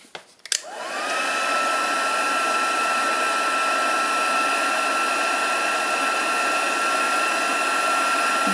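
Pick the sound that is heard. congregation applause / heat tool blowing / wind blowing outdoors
heat tool blowing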